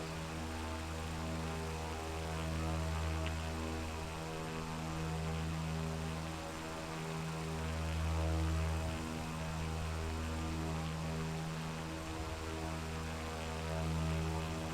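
A small propeller airplane drones steadily in flight, a loud even engine hum with a tonal propeller buzz that swells and eases slightly, heard from inside the cabin without talking.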